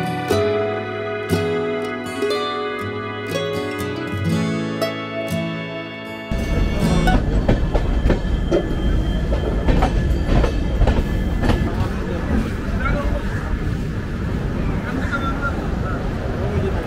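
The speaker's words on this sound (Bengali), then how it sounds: "পার করলো ট্রেন চটেরহাট স্টেশন" A train passes Chatterhat station on the way to NJP Junction. After about six seconds of tonal music, a loud, steady rumble with rhythmic rail clatter fills the rest of the stretch.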